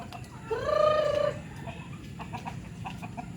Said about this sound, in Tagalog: Papakain tayo ng mga Rhode Island natin.